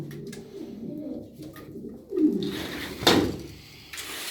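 Angut pigeons coo in a bird market in Darıca, with soft repeated calls rising and falling at close range and a couple of louder coos standing out.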